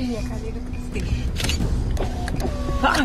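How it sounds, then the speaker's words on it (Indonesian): Car power windows whir shut in short motorized bursts inside a vehicle during a close wildlife encounter with a leopard, with creaks and mechanical clicks. Children's excited voices are mixed in alongside the window motor. "Salah satu dari anak-anak itu kemudian memberitahu semua orang untuk menutup jendela mereka."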